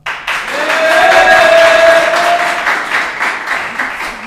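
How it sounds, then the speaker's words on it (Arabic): Audience applauding and cheering at a student battle event in Casablanca, a broad sustained wash of clapping with a shrill whistle or voice rising through it, loud and close throughout. "والو صفقوا على صحابكم."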